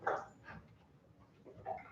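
A dog in obedience stay training gives soft whimpers and short whines, faint and intermittent, with a few brief yelps spaced across the moment.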